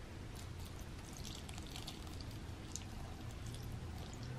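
Water poured into a Dash mini rice cooker packed with cabbage for an Irish boiled dinner, a faint continuous splashing and trickling with small drips throughout.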